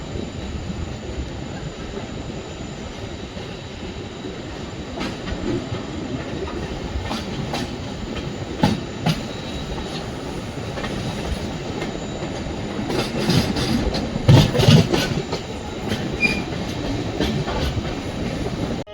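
A Bengaluru to Vijayapura express train with new LHB coaches rolls along the rails with a steady heavy rumble and repeated clickety-clack over rail joints, growing louder and busier partway through.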